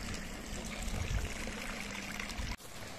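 Water from Girlevik waterfall in Erzincan flows and splashes steadily, a continuous broad rushing that stays loud and close, with a brief dip near the end before the flow resumes.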